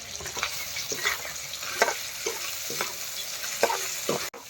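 Pork sizzles and fries in a pan with chili powder, a steady hiss broken by repeated stirring scrapes at a close, moderate level.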